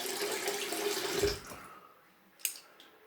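Water runs from a tap over a detached part of a Valet AutoStrop razor set for about a second and a half, a steady close splashing rush that then cuts off, leaving faint drips and one sharp clink.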